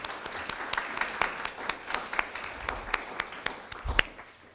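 An audience at an award reception gives a round of applause for teaching faculty, many hands clapping in a dense, even patter at moderate distance, with a few sharper individual claps standing out.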